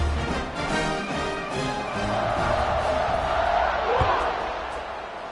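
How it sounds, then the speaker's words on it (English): A stadium crowd in the video game College Football 26 gives off a steady, broad roar that swells slightly toward the middle, with a sharp thud partway through. "You think this crowd's going to get loud when their defense comes on the field?"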